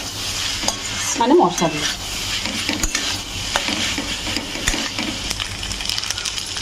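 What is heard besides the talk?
pasta being stirred with spices in a frying pan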